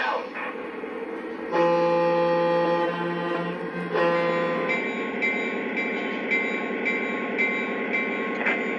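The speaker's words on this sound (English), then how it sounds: "Let's check out this train rolling around the layout." Model train rolling around a layout, a loud, steady mechanical hum with bright whistle-like tones that switch on and off, and a rhythmic rolling clatter building in the later part.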